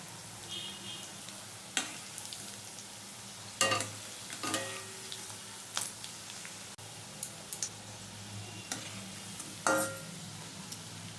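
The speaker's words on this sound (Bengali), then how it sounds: "দুদিকেই লাল লাল হয়ে গেছে, আমার পকোড়াটা ভাজা হয়ে গেছে" Chowmein pakoras deep-frying in hot oil, a steady crackling sizzle broken by sharp clinks and scrapes of a utensil turning the fritters, close and moderately loud with no talk.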